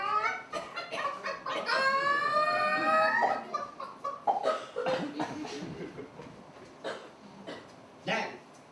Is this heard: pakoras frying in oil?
no